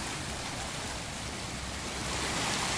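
Water rushes steadily through a canal in Răzeni after heavy rain, a dense, even roar of flowing water that fills the whole stretch without pause.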